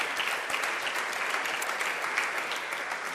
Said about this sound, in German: Ich bitte um Applaus für